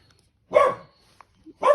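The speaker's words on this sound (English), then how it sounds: "I'm going to stop before the doggies totally go overboard with the barking." Two sharp, close barks from dogs ring out about a second apart, with a faint small knock between them in otherwise quiet surroundings.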